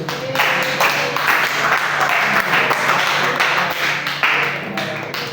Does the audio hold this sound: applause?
yes